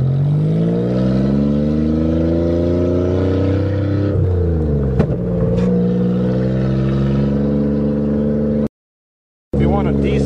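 A Toyota manual car engine drones loudly and close while gearing down. Its steady note shifts pitch as the revs fall and change, and the sound cuts out briefly near the end.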